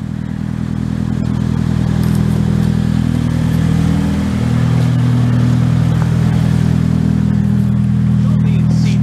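A 2017 Subaru BRZ Limited with the Performance Package and six-speed manual gearbox drives along, its engine a steady, continuous low drone with a brief dip in pitch midway, loud and close throughout.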